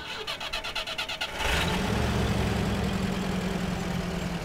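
Truck engine in the Mud Runner video game cranking with a rapid stuttering starter rhythm for over a second, then catching into a loud, steady rumbling idle, with no voices.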